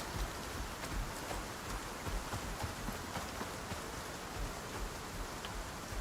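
Steady rain storm in the survival game Icarus, a faint, even hiss of falling rain with soft patters and no voices.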